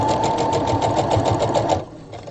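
A sewing machine stitches a pajama pants seam, a steady close rhythmic whirring and needle clatter that stops abruptly near the end.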